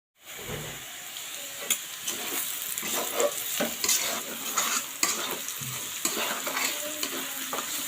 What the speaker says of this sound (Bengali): এই তেলেই এখন আমি পেঁয়াজগুলো ভেজে নিব